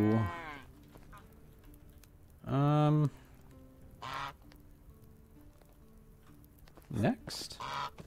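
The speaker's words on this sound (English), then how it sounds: "Hey, ducks." Ducks and geese in the farming game Medieval Dynasty let out a few loud honking quacks spaced several seconds apart over a quiet background, with a brief spoken remark between calls.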